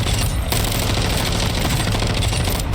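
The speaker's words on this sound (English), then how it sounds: "So we've got the RAP H light machine gun." RAPP H light machine gun firing in Warzone 2.0, a dense unbroken automatic burst of loud, close shots that runs throughout with no talking.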